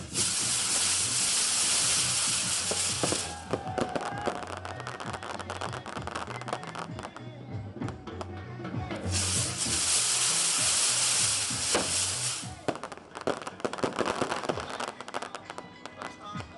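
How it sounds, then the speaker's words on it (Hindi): Fireworks at the close of a political rally burst in dense, crackling, hissing volleys that fill the scene, with a steady drum beat pounding beneath them. "शानदार आतिशबाजी का मुजाहिरा भी किया गया।"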